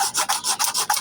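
A knife handle being sanded by hand with 240 grit sandpaper, quick back-and-forth rasping strokes in a brisk, even rhythm, close and clear with no talking.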